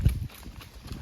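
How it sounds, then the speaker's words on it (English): Hooves of cattle on a farm cattle drive clop past along a polywire lane, a brief irregular patter of steps at moderate distance. "Over half the cows have already went by before I started this video."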